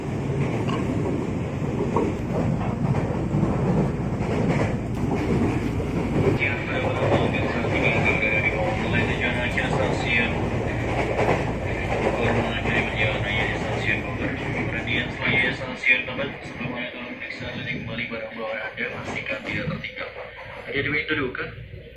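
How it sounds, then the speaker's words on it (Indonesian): Steady rumble and rattle of a KRL commuter train speeding along the rails on the Manggarai–Bogor line, heard from inside a crowded carriage, with people talking throughout. "dan kereta kita ngebut sekarang"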